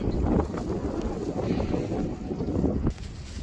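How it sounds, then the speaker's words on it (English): Steady gusts of wind buffet the microphone outdoors, a low continuous roar that drops off briefly near the end. "Man, it's pretty windy out here."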